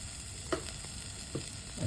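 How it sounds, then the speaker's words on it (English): Dry and green spices tempering in hot oil: a steady, close sizzle with a couple of soft stirring knocks. "So we are mixing all the dry spices and the green spices and tempering them."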